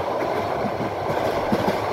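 A passenger train running from Dhaka to Cox's Bazar past Ramu station rumbles steadily from inside a carriage, a low continuous roar with faint rhythmic wheel knocks.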